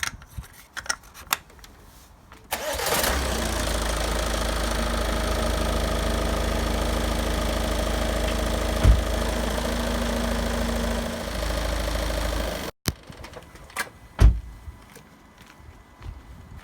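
A 2016 Ford Edge with the 2.0 TDCi Duratorq diesel cranks and starts, then idles with a steady, even clatter for about ten seconds before shutting off, with small knocks and clicks nearby before and after.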